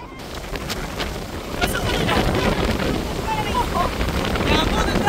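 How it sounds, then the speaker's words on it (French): Strong outdoor wind buffeting the microphone in a steady roaring rush that grows louder, with faint voices in the background. "Il y a un vent de dingue ici."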